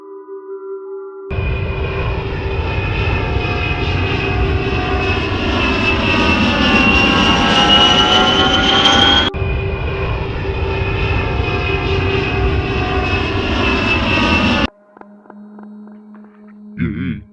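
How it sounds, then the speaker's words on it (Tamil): A fixed-wing aircraft flies in with a loud, steady engine drone that holds for around thirteen seconds, its pitch slowly shifting before it cuts off abruptly and quieter sounds follow. "அந்த விமானம் அவங்க ரெண்டு பேரும் இருக்கிற பகுதிக்குள்ளே வந்துச்சு"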